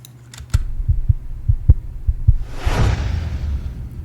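A heartbeat sound effect layered into a hip-hop beat pulses as steady, deep, evenly spaced thumps, followed by a rising whoosh and a low humming swell.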